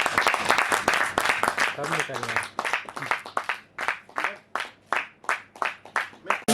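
An audience applauding to welcome a poster launch of Prabhu Ram at an event, with rhythmic clapping that starts dense and settles into spaced, regular claps, with a brief spoken question early on.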